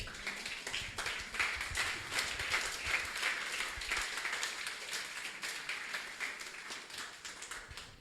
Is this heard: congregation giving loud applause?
yes